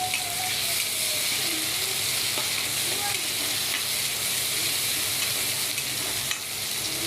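Tomatoes and onions fry in a pan for a fish masala curry, a steady, loud, bright sizzle running throughout with occasional faint stirring scrapes, close up, with no talking.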